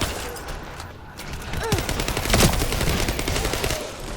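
Rapid bursts of gunfire from shooting enemies in the video game The First Descendant crackle loudly and almost continuously, mixed with game effects and no talk.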